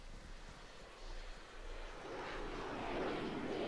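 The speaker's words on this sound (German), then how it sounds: "Wow, voll der Jet hier, ey." A jet aircraft in the video game Arma 3 flying past, a broad roaring whoosh that swells steadily louder toward the end, heard alone without talk.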